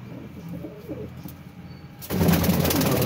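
Pigeons coo softly in a quiet space for about two seconds, and then a loud broadband rush of noise abruptly takes over.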